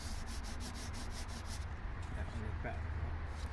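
Dried plastic putty being sanded by hand produces a close, steady abrasive rubbing, with rhythmic strokes early on giving way to continuous scratchy friction.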